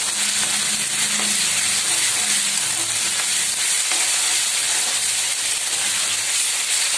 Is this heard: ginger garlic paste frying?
yes